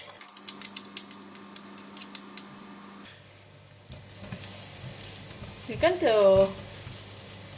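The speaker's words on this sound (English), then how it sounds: "fry the garlic until it becomes brown and fragrant" Garlic sizzles in about two tablespoons of hot cooking oil while a voice speaks briefly; tapping utensil clicks come first, then a softer steady frying hiss.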